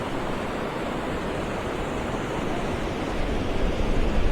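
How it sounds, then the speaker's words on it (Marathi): Sea waves wash steadily onto Versova Beach at night, a continuous broad rushing surf that stays close and fairly loud, swelling slightly toward the end, with no voices. "परत आलेली आहे लाट."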